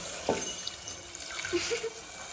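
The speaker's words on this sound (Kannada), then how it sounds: "ಸ್ವಲ್ಪ ನೀರು ಹಾಕೊಂಡು" Water is poured into a pot for cooking chicken, with a soft splash and gentle trickle, fairly quiet and close.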